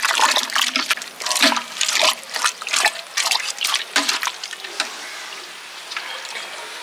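Pineapple wine mixture with spices stirred in a large batch of about 20 kg of pineapple, a continuous wet sloshing and trickling of liquid with irregular splashy surges, close and fairly loud, no voices.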